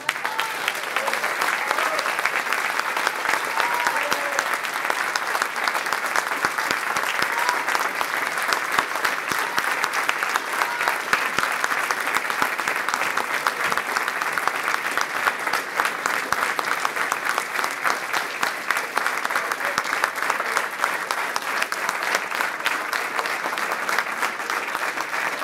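Sustained applause from a lecture audience, a dense, steady wash of clapping holding at an even level throughout with no voices breaking through.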